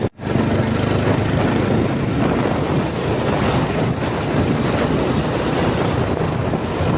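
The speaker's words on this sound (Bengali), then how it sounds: "বাইক নিয়ে উঠছি অযোধ্যা পাহাড়ে।" A motorcycle climbing Ayodhya Hill in Purulia: heavy, continuous wind roar buffets the microphone throughout, loud and close, with the engine mostly buried under the rushing air and no speech.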